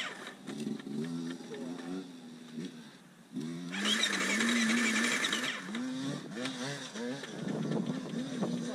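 A two-stroke dirt bike engine revs hard in second gear climbing a hill, its pitch rising and falling in surges, with a louder sustained stretch midway and no talk over it.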